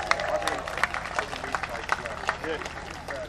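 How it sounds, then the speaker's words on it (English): Outdoor crowd gathered at the start of a charity hike on the Jurassic Coast clapping for first-time hikers, a dense patter of hands with some cheering, fairly close, under a loudspeaker voice talking over it. "Let's give them a big round of applause"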